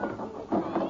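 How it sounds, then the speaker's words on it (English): Cats meowing as a sound effect in an old family radio sitcom, with a couple of short overlapping meows close up, one after another over about a second. "Let's have a look at these tropical felines."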